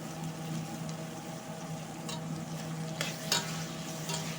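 Tomatoes and curry leaves sizzle steadily in a hot pan while biryani masala cooks, with soft scraping stirs and a few sharper clinks of the spoon near the end, close and continuous.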